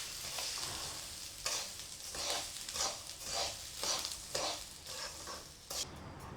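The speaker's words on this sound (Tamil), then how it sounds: "அரை கிலோ கடலப்பருப்பு வறுத்துட்டோம்." Half a kilo of chana dal (split chickpeas) is dry-roasted in a pan for idli podi. Close, steady scraping and stirring strokes repeat in a loose rhythm over a soft rustling sizzle of the rattling lentils.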